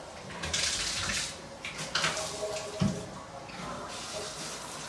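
Water runs from a shower in a home bathroom during a yearly inspection, a steady faint hiss of spray with a few soft knocks, no voices over it.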